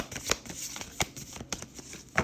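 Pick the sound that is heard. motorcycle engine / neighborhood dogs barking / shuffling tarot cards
shuffling tarot cards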